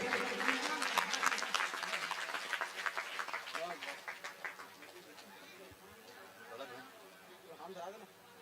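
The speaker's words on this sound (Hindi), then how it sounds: "ताली बजाएंगे।" Audience clapping at a live village Ramayan recitation event in Giddha, a dense patter that starts strong, fades midway, and returns fainter near the end, with voices talking in the background.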